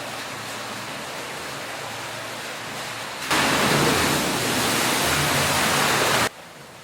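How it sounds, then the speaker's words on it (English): Water crashes into an aquarium splash tank as a steady roar of spray, rising suddenly to a loud surge for about three seconds before dropping back to a softer wash. "First thing you see will be the splash tank."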